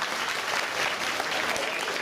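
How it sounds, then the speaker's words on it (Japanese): Audience applause at the Turtle Talk show in Tokyo DisneySea, a dense, steady wash of many hands clapping together, close and continuous for the whole short stretch. "みんないろはに拍手だ。"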